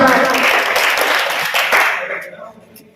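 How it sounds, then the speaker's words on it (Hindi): Vigorous applause from an audience at a political gathering, loud and dense at first, then thinning and fading out over the last second. "जोरदार तालियां"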